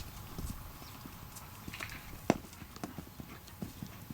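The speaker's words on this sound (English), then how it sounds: "pick up the canter from that almost walking trot so that you really take her back and that she canters off" Horse hooves in a riding arena during a canter, soft rhythmic thuds in a steady three-beat pattern at a moderate distance with one sharper knock, while a riding instructor's voice is heard faintly.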